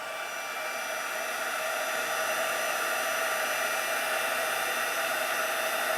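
An embossing heat tool melting clear embossing powder over glitter on cardstock blows a steady, close hair-dryer-like roar with a constant hum, unbroken for the whole stretch and without any talk.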